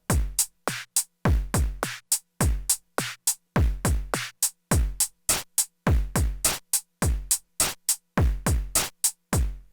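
Drum machine pattern with a punchy kick and snare hitting in a steady repeating rhythm, each hit sharp and dry with short decays, played alone and loud without any talk.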